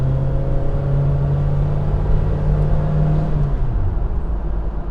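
A 1997 third-generation Toyota 4Runner with 270k miles under steady throttle, giving a loud, continuous engine drone heard from inside the cabin, with the pitch dipping slightly near the end.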